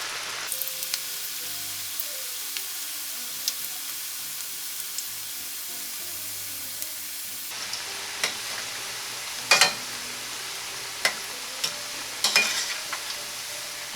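Vegetable pakoda batter drops into hot oil and fries with a sudden crackling sizzle that grows denser midway, dotted with sharp pops and spatters; close, steady and without voices.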